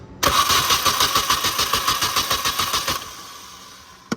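A Mini Cooper starter motor cranking the engine over after being jumped, a rapid loud rhythmic churning for about three seconds that stops abruptly without the engine catching.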